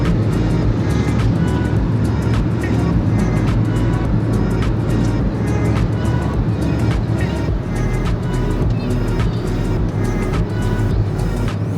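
Mahindra XUV300 cruising on highway NH44, a loud steady in-cabin road and engine drone with tyre roar, holding an even level throughout, with no speech.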